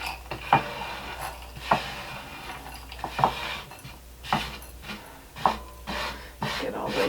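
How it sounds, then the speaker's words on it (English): Pecans tipped into a small bowl in a tiny-house kitchen, a series of sharp clattering rattles and clicks of nuts hitting the dish, spaced about a second apart and heard close up without voices. "So there's our pecans. To mix this topping, we're just going to dump them into this little bowl."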